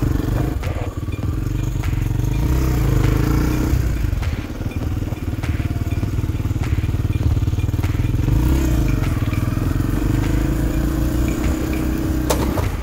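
Stunt motorcycle practicing climbing a staircase, its engine loud and close, revving and idling with clattering and scraping throughout.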